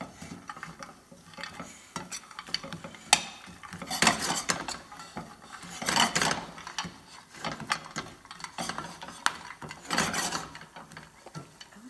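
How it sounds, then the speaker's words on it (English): Lavender-coated almonds caramelize in a pan while being stirred continuously, giving close scraping and clattering of the utensil against the pan and nuts in an uneven, busy rhythm. "this recipe calls for a lot of stirring."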